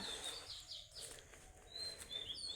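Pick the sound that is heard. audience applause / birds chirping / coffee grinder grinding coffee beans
birds chirping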